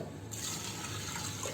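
Water poured into a pressure cooker holding a cup of soaked peas, a steady close splashing stream starting after a brief pause and running continuously to the end.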